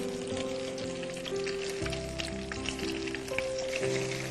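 Flour-coated apple pieces frying in hot oil give a steady, close sizzle with fine crackling and bubbling, continuing evenly without any voices.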